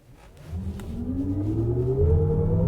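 A Lexus RZ electric SUV's artificial drive sound, a rising synthetic spaceship-like hum, climbs steadily in pitch and grows louder over a low vehicle rumble.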